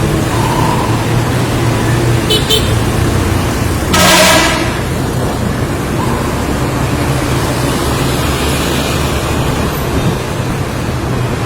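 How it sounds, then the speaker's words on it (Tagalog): Road traffic on SLEX Magallanes, a steady loud roadway rumble with a couple of short car horn honks sounding partway through, no talking. "Traffic sa SLEX Magallanes."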